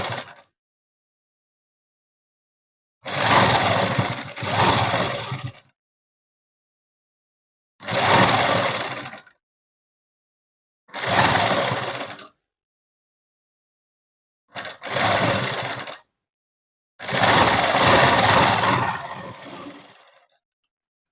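Sewing machine stitching a net cloth dress runs in five separate loud bursts of a few seconds each, a rapid mechanical whirring and rattle close by, with silent pauses between runs.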